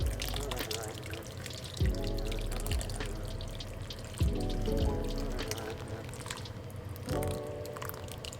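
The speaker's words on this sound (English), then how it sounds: "So I'm gonna pour it on. This is going on top." Canned tomato sauce is poured over birria meat in a pot, giving a steady wet pouring and squishing sound with a few soft plops, under a continuous kitchen background.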